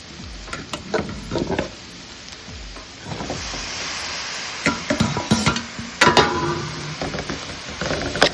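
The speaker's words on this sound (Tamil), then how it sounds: "நல்லா வதக்கி கொடுத்துட்டு ஒரு அஞ்சு நிமிஷம் நல்லா வதக்குங்க" Steady sizzling of ridge gourd frying in a pan, with intermittent scraping and stirring clatter from a utensil against the metal.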